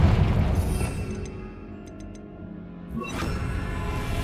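A Confringo fire spell blasts in the Hogwarts Legacy video game: a loud, broad booming burst opening the moment, fading into quieter rumble, then a second sharp burst of noise near the end.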